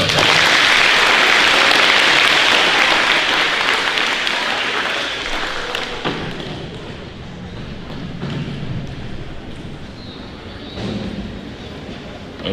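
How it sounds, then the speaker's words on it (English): An audience applauds at a middle school academic awards ceremony, loud sustained clapping that gradually thins and quiets over about twelve seconds, with faint voices underneath. "One more round of applause."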